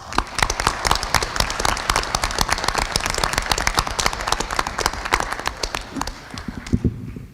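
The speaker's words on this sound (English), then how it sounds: "this Jack Jolly certainly deserves an incredible round of applause" An audience at a school board meeting gives an honoree a round of applause: crisp, dense clapping from many hands that holds steady, then thins out and fades near the end.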